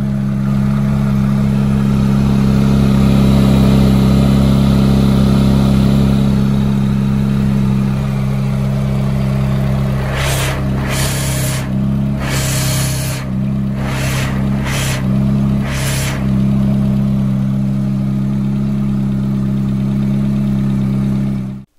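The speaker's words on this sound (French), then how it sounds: "Premier démarrage avec le compresseur en route." A loud G60 supercharged car engine starts and runs steadily at idle, a deep pulsing drone with a whine on top, briefly blipped a few times midway.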